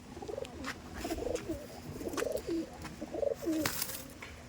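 Madrasi pigeons coo softly nearby in repeated low, throaty phrases, several rolling calls in a row with faint rustling between them.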